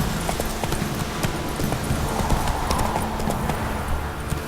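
Roach, Geralt's horse in The Witcher 3: Wild Hunt, gallops with steady, fast clip-clop hoofbeats over a dense game soundscape, with no pause through the whole run.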